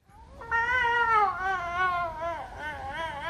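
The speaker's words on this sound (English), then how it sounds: "It's a fucking snow leopard." Snow leopard calling, a drawn-out wavering yowl rising and falling over a few seconds, moderately loud with no talking.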